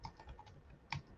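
Quick, faint keystrokes on a computer keyboard, a short run of light taps with one slightly louder click near the end, close by and without talk.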